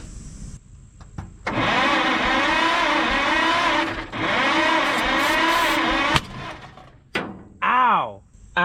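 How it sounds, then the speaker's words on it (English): Engine of a Mack B30 bus cranking and sputtering, then backfiring out of the carburetor, with loud sustained mechanical churning broken by sharp bangs and pauses; people talk briefly near the end. "It backfired like crazy out of the carburetor"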